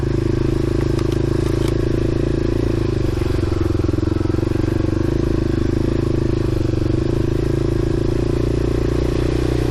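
A loud motorcycle engine running and revving up close, a continuous throaty drone with rising pulls and some rattling clatter.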